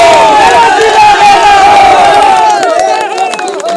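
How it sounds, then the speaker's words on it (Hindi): Audience applause for Bikaner at a public gathering, a loud, dense crowd clapping and cheering continuously, with a voice speaking over the noise. "बीकानेर के लिए जो ताली बजाई है"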